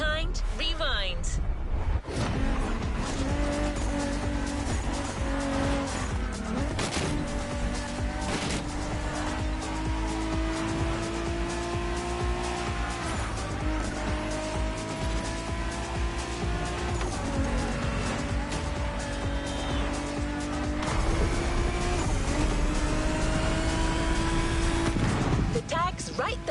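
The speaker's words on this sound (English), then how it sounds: "the song of a V8" V8 muscle car racing in The Crew video game, with a loud, continuous engine roar that rises and falls through gear changes and occasional tire squeals over the whole stretch, partly under background voices or music.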